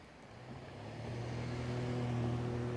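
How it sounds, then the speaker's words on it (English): Several cars drive past on a road while someone walks a German Shepherd on a leash, a steady engine drone swelling louder and closer over a few seconds, with no talk. "Let all these cars go by"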